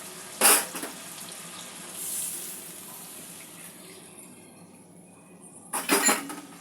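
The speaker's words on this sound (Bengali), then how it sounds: "অল্প একটু জল মিশিয়ে দেবো গ্রেভিটা তৈরির জন্য।" Water is poured into a coconut brinjal curry in two short splashing bursts, one at the start and one near the end, with a quieter bubbling lull between.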